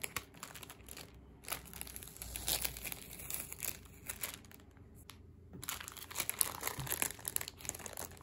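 A parcel wrapped and sealed with stamp-pattern washi tape is opened by hand: close, soft crinkling and crumpling of packaging in uneven bursts with brief pauses, fairly quiet and without speech.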